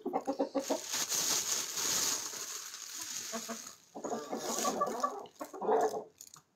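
Backyard hens cluck and murmur continuously, with a few louder squawks near the end, close by with faint outdoor noise.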